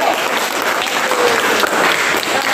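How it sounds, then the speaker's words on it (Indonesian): A classroom or church group bursts into sustained, loud applause for a group that has just presented, the dense clapping of many hands filling the room without a break. "Oke, kasih dulu aplaus bagi mereka"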